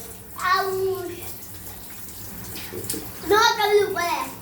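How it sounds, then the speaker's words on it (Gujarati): Hot water runs steadily from a bathroom tap, a continuous rushing hiss, while someone speaks over it twice. "ગરમ પાણી બંધ કરવું પડશે હવે"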